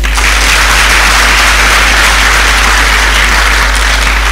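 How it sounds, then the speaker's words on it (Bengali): An audience at a career talk on BCS exam preparation applauds, a loud, dense and steady wash of clapping that fills the whole stretch without letup. "হাততালি হবে।"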